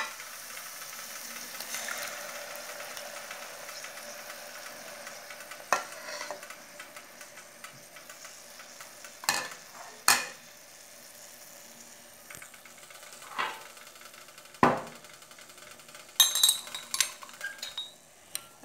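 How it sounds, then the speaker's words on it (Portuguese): Tomato sauce is stirred into pasta in a pan, a low steady simmer with a spoon scraping and clinking against the pan in several distinct strokes, and no talk. "Eu vou adicionar nosso molho de tomate."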